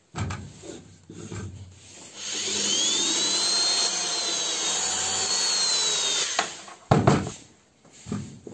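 A power drill drives screws into a wood bowl blank cut from firewood. A whirring run lasts several seconds, with shorter bursts and clunks before and after, and no talking.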